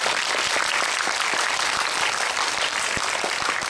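A cinema audience at a film screening and guest-visit talk applauds in a loud, dense, continuous wave of clapping from many people, steady throughout with a few sharper claps standing out near the front.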